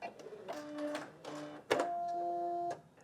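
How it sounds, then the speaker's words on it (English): A sewing machine's automatic thread cutter runs in short mechanical bursts: whirring motor tones, a sharp clack near the middle, then a sustained whine that stops abruptly, all close and clear with no voices. "it also has an automatic thread cutter"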